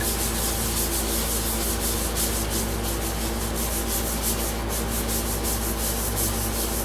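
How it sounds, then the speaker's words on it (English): Yorkshire Grit abrasive is rubbed against a hickory bowl spinning on a lathe, making a loud, steady, close abrasive hiss over a constant low motor hum that lasts the whole time, with no talking. "Now I'm going to do the Yorkshire grit trick."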